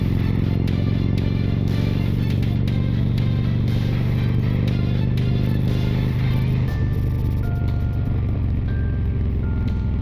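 Harley-Davidson Road Glide motorcycle engine running steadily nearby, a continuous loud low rumble that shifts in tone partway through, with faint rattles and clatter over the top and no talking.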